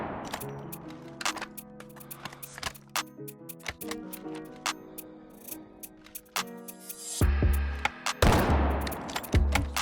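Gunshots ring out in the mobile shooter game Delta Force Mobile, sharp single shots spaced irregularly, then a louder burst near the end, heard amid game sounds and brief talk.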